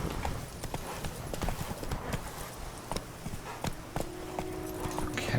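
Horse hooves clip-clop at a steady gallop across ground in The Witcher 3: Blood and Wine. The hoofbeats are clear and rhythmic over an ambient game backdrop, and a faint tone comes in near the end.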